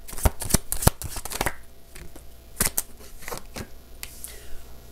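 Tarot cards being shuffled by hand: several sharp riffling bursts in quick succession, then a pause and a few more scattered shuffles, close and fairly loud, with no talking over them.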